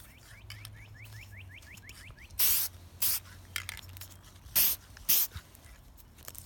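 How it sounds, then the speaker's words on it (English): A spray bottle spritzes four short bursts up close into a hand, in two quick pairs, with faint chirping in the background before the first spray. "I'm just going to spray in my hand here."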